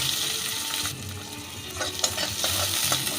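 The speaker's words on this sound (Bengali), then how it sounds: "এবার দিয়ে দেবো একটা পেঁয়াজ" Onion frying in hot oil with black cumin and fennel seeds hisses steadily and close, with a few scraping stirs of a spatula breaking through the sizzle.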